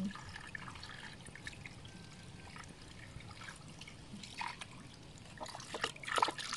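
Well water trickles and pours steadily at low volume, with brief louder splashes near the end, outdoors in a rural setting before fish grilling.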